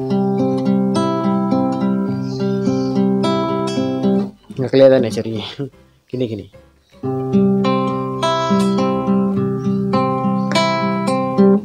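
Plucked acoustic guitar notes ring in a repeating P-I-M-I-A-I-M-I fingerpicked pattern, interrupted midway by a brief spoken remark in Indonesian before the picking resumes.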